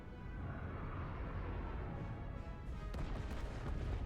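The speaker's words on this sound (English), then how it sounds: "Oh, that's a big explosion." A deep rumbling explosion booms in the video game Star Trek Resurgence, a long low roar with sharper cracks near the end, fairly quiet overall.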